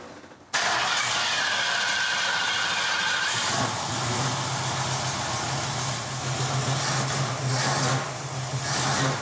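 A 1966 car's 4700 cc V8 engine cranks and catches with a sudden loud start, then settles into a steady, rumbling idle that holds for several seconds, close by and without talk.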